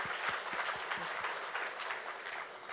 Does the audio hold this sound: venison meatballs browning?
no